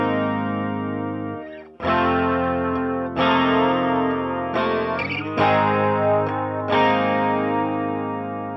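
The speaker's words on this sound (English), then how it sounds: "Be sure to use some chorus. I'm just using a Boss Chorus Ensemble." Electric guitar played through a Boss Chorus Ensemble pedal, ringing out a series of sustained, shimmering chords with fresh strums about every second and a half, loud and up close, with no talking.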